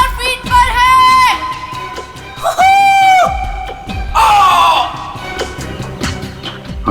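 A man screaming in a recording made during a parachute jump at about 5000 feet, long loud cries in separate bursts, each held for a second or more, with rushing background noise between them.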